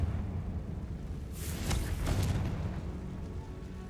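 A Confringo spell blast in Hogwarts Legacy bursts midway as a sharp fiery whoosh and boom over steady game ambience, fading away afterward.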